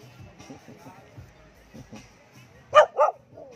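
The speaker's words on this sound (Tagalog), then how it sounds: "Na-miss ko ang aso ko, si Luna baby boy, baby girl." Two sharp close barks from a pet dog named Luna, spaced a moment apart, following quiet talk between people at an island home in Siargao.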